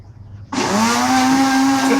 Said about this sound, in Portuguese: Até o som do liquidificador, o boneco dança.